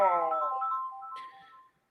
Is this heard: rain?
no